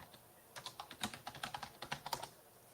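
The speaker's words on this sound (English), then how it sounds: "You can't hear me typing, can you?" Fast, irregular typing on a computer keyboard, a run of crisp key clicks close by and fairly quiet, with no voices.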